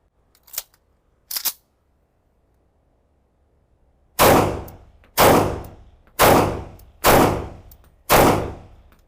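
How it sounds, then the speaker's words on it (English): A Tanfoglio Stock II pistol fires five loud, sharp shots at an even pace of about one per second, each with a short decaying tail, preceded by two fainter clicks. "Let's try a few more shots and see how it goes."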